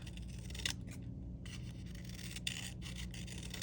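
Scissors snip through paper to shape a DIY tropical palm craft, giving a few soft, quiet cuts over a low steady background hum.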